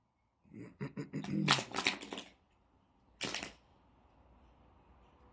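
A tarot card deck is shuffled close by in quick riffling bursts, a longer run of crisp flicks followed by one short burst, then quiet.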